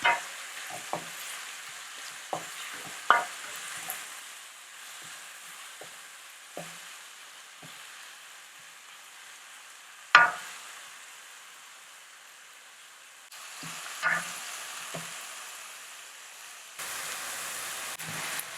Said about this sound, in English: tomatoes, garlic, and hot pepper. Keep stirring to combine all the flavors.